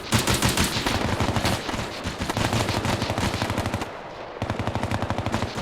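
Machine gun fire in a video game firefight, close and loud, with rapid sustained bursts of automatic shots and a brief lull before firing resumes.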